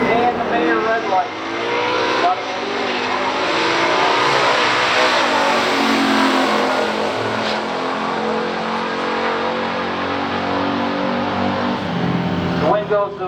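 A 1966 Chevrolet Chevelle and a 1969 Chevy Nova 396 automatic race down a drag strip, engines roaring loud and steady as they rev and accelerate, with a track announcer talking over them throughout.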